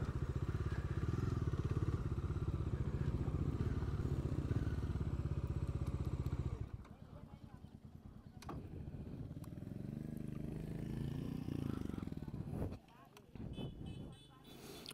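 A motorcycle off-roads in mud, its engine revving hard and steady before dropping to a lower, uneven chug as the muddy tire slips in place, with a rider talking over it.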